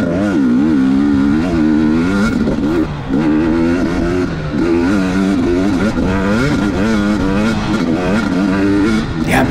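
A dirt bike engine revs hard and continuously up close during a motocross race, rising and falling in pitch as the rider works the throttle, loud and dominant throughout.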